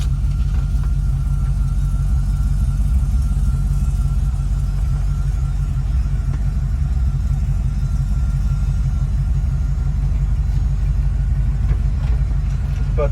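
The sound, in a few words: 1967 Chevrolet C50 truck with 5.3 LS swap engine driving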